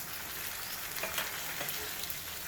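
Boiled potatoes dropped into a frying masala for aloo matar curry, a steady close sizzle with a few soft stirring scrapes, no talking.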